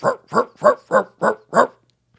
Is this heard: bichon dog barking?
yes